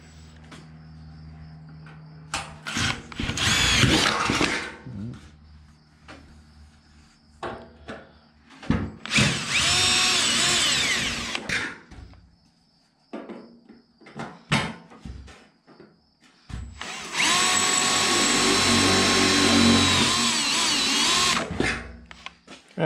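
A power drill runs in three loud bursts, the longest near the end, drilling out spot welds in sheet metal on a 1952 Ford half-ton truck bed side, with quiet clanks and pauses in between.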